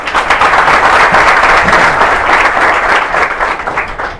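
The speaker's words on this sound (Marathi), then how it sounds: "टाळ्या वाजवून स्वागत करूया" An audience claps steadily in welcome for a guest, a tahsildar, at an inspirational talk event. The applause is dense and loud, holding evenly for about four seconds with no speech over it.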